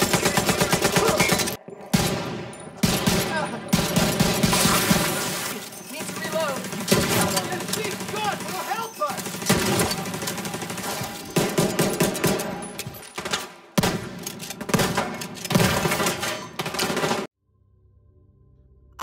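Rapid, punchy weapon fire from the shooter video game The Division 2, with dense bursts and repeated shots under speech and game audio for most of the clip, then cutting out abruptly near the end.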